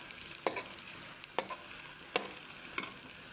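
Garlic stirred into translucent onions frying in a pan, a steady sizzle broken by four sharp scrapes of a spatula, with no one talking.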